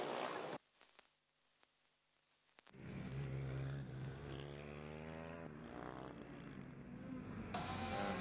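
A Formula Student race car, car 68 from UAS Mannheim, rejoining the endurance event after a driver change. After a quiet gap its engine rises to a loud, sustained, revving drone that stays steady close by.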